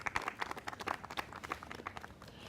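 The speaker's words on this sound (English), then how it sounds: "a round of applause for them" A studio audience applauds in an irregular patter of hand claps, fairly faint and brief, with no voices over it.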